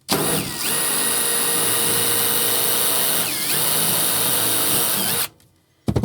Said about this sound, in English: I'm just gonna pre-drill them